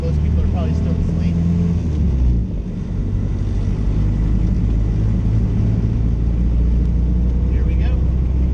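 A Model A Ford motors onto a freeway on a quiet holiday morning, its engine and road noise making a steady, loud rumble with wind roar throughout, briefly dipping before settling back into a constant drone.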